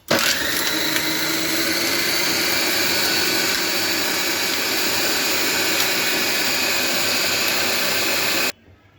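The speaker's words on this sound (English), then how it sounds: "Now I'll close the lid and I'll start the processor." Food processor running with its lid closed, churning curd and ice cubes into butter: a loud, steady motor whir with a high whine, sustained without a break for about eight seconds before it abruptly stops.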